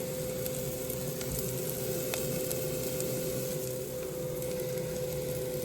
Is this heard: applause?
no